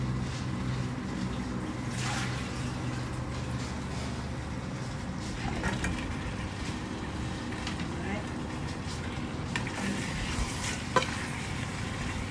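Potatoes frying in a pan alongside rump beef give a steady sizzle with occasional stirring and scraping, faint and continuous beneath a voice.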